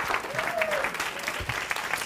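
A room full of people at a professional speakers' association tribute claps in a thick, even wash of applause, steady and close throughout the short stretch.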